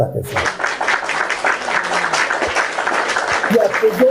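Audience applause for a question at a live church talk, a steady dense burst of clapping from a crowd lasting several seconds, loud and close.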